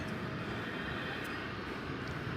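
A big jet airliner lines up on the runway at DFW Airport at night, a steady, distant engine rumble and whine holding evenly throughout, with no one speaking.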